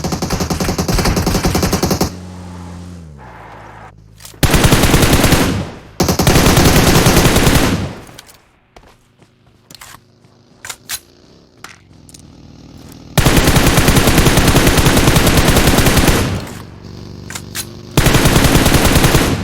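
Bursts of automatic M416 rifle fire in a video game, several long loud volleys separated by quieter gaps with scattered single shots and clatter.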